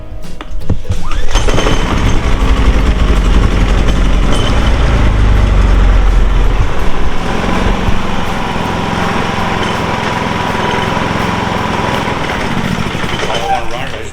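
A Predator 3500 inverter generator runs inside a garage, its small engine holding a steady, loud, continuous drone at close range for the whole stretch.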